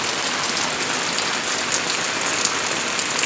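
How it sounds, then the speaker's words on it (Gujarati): Heavy rain pours down steadily, a dense, even hiss of drops beating on surfaces without a break. "વરસાદ ધોમધાર ચાલુ થઈ ગયો છે"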